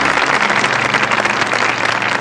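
An audience claps loudly in dense, continuous applause to welcome a singer at a televised SA RE GA MA music show.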